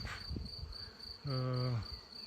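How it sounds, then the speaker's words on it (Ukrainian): A bee buzzes close by for about half a second with a clear droning hum around a tree during swarming season, set against a steady high insect chirr and faint outdoor background. "От бджола навколо дерева гудить"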